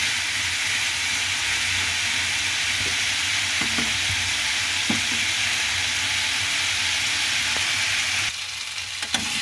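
Potatoes fry in hot oil in a pan with a loud, steady sizzle throughout, punctuated by faint scrapes and taps of stirring, the hiss dropping slightly near the end.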